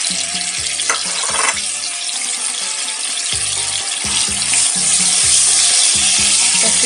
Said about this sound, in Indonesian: Tumis dulu ya, bumbunya ditumis dulu, bumbunya kita tumis dulu sampai harum.